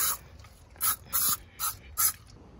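Insecticide sprays along the side of a truck to kill ants, five short sharp hissing bursts from a trigger sprayer, close to the microphone, with brief pauses in between.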